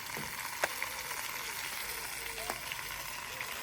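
Low, steady sizzle of ground coconut paste hitting a hot pan with dried chilies and curry leaves for chicken perattu, with a few sharp crackles and spatula scrapes.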